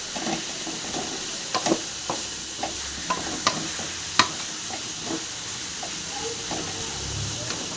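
Raw mango pieces cook in a pan, a soft continuous simmering hiss with scattered spoon taps and stirring clicks close by, faint voice in the background.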